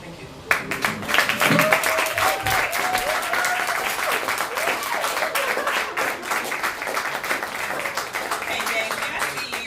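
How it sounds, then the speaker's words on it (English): An audience at a poetry night applauds and cheers after a performance, a dense, steady wash of clapping that starts abruptly and holds at full strength throughout, with a few voices calling out. "clap it up for all the performers that performed so far"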